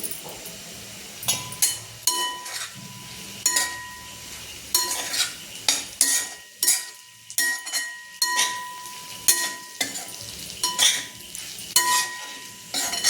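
Sago pearls stirred with a metal spoon in a pan of cooked potato for sabudana khichdi, a rhythmic series of scraping strokes and clinks against the pan over a soft sizzle, close and clear.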